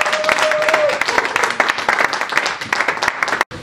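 A church congregation applauding and cheering after a prayer of thanks, a dense, continuous wash of many hands clapping that fills the room before cutting off abruptly near the end.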